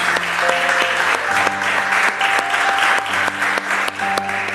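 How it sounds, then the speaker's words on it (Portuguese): A church congregation claps loudly and continuously in praise, a dense, close wash of applause running throughout, with sustained musical tones beneath it. "Vamos aplaudir ao Senhor, que Ele merece."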